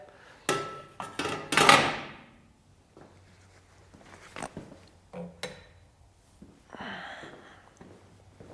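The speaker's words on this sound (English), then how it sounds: "Planish it out where I had to hammer it over." Several sharp metallic hammer blows ring out close by in an irregular cluster as sheet metal is planished on a drift car's quarter vent, followed by quieter taps and clatter with pauses between.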